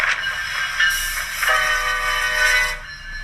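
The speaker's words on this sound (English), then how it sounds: "The train came by as soon as we were filming." A train rolls past at close range with a steady rumble, and its horn sounds in bright tonal blasts through most of the passage, fading as the train moves on.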